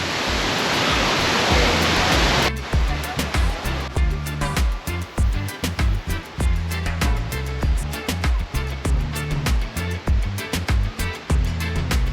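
El Chiflón waterfall in Chiapas, Mexico, gives a dense, loud rushing roar for a couple of seconds, then a steady rhythmic pulsing beat takes over for the rest.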